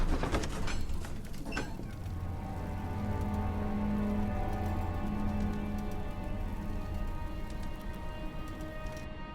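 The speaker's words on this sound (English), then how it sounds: "Oh, it's raining again." Steady, dense rain from the game Amnesia: The Dark Descent, pattering continuously and fairly loud for the whole stretch, with a low droning ambient tone underneath and no talking.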